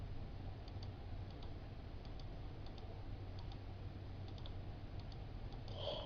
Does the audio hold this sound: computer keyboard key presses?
yes